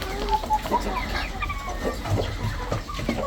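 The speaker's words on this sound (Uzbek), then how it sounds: "Juda chiroyli boqib qo'yishibdi tovuqlarni." Adler hens clucking steadily over a dense backdrop of flock noise, several birds calling in short overlapping bursts at close range.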